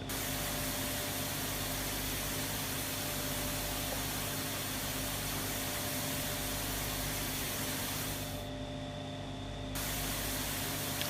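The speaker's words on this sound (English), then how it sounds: "let's see if I can spray from a distance" A pressure washer sprays steadily at a farm seeder in Pure Farming 2018, a loud continuous hiss with a constant hum beneath, its high end briefly dropping out near the end.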